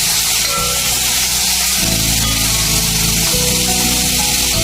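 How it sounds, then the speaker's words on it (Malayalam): Tomatoes and onions sizzle loudly as they fry in a hot pan for tomato chutney, a close, steady hiss and crackle with brief bursts as the pieces settle and shift. "ചൂടായി വരുമ്പോഴത്തേക്കും ഇതിലേക്ക് നമുക്ക് തക്കാളിയും സവാളയും ഇട്ട് കൊടുക്കാവേ"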